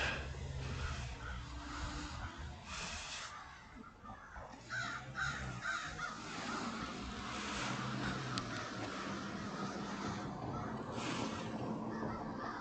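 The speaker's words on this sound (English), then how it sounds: "See, look, we got those crows." Several crows caw repeatedly outdoors at a moderate distance, their harsh calls overlapping against a steady background of wind and ambient noise.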